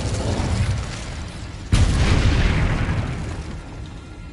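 In Hogwarts Legacy, the Incendio fire spell erupts with a sudden loud whooshing burst of flame that roars and slowly fades over a dense game soundscape.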